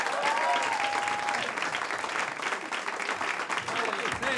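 Audience applause at a comedy night in a pub, dense sustained clapping that stays at a steady level throughout, with a brief whistle near the start.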